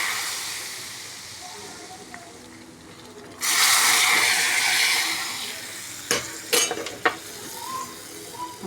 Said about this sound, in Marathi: त्याच्यात जिरं मोहरी तडतडून घेते आणि 3 लाल मिरच्या टाकते.